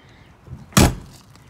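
A thick travel trailer door with a slam latch is shut once, a single sharp, close thud with a short rattle of the latch after a faint preceding bump.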